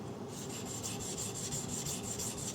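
A knife blade scraped back and forth across a coarse water sharpening stone, a close, steady rasp repeating in quick even strokes with no voices.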